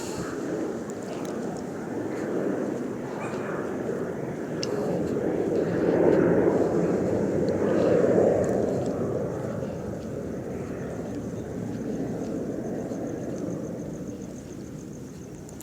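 An airplane passes overhead at night as a broad, distant engine rumble that swells in the middle and slowly fades, with faint wind noise underneath.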